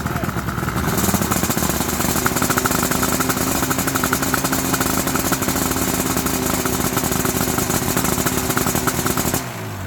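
A Yamaha Banshee quad runs in second gear at about quarter throttle, its engine giving a loud, steady, buzzing two-stroke drone that holds nearly constant before cutting off at the end.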